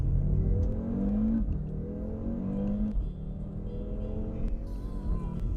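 An Audi RS3 with a 400 BHP engine revs hard under load, its note climbing in several rising sweeps with brief shifts between them, loud and close throughout with steady road and engine noise.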